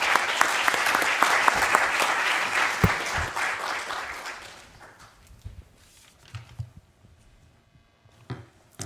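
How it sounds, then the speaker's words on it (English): Audience applause at a panel event on California cap-and-trade and forests, loud and dense at first, then thinning out into scattered claps and shuffling over several seconds. "So if we can give Mary Rose a round of applause"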